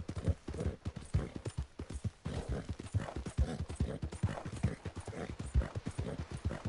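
A horse gallops in the video game Red Dead Redemption 2, its hooves pounding in a fast, steady rhythm of heavy thuds that continues throughout, loud and close, without talk.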